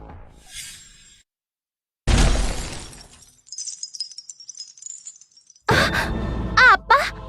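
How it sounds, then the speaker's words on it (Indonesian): A crystal shatters in an animated fantasy battle scene, a loud crashing burst followed by shimmering, tinkling debris, then another loud impact with strained vocal sounds. "Kenapa kristalnya pecah?"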